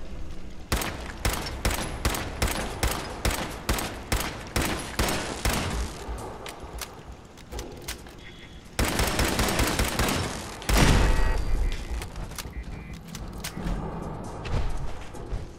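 Automatic turret in Fallout 4 firing repeated loud bursts of gunfire, rhythmic shots at first, then denser sustained volleys with heavy thumps near the end, no talk over it.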